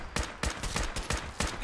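Rapid gunfire in a modded Fallout 4 firefight: about five sharp, loud shots spaced a few tenths of a second apart, each with a punchy low-end thump, with no talking.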